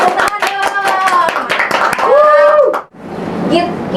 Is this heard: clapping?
yes